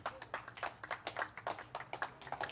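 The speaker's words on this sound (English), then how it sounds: "So a huge applause." Sparse clapping from a small gathering at a Starbase and Starship Gateway community awards event, honouring the nominees; a handful of distinct hand claps in an uneven rhythm, fairly faint and close, with no talk over them.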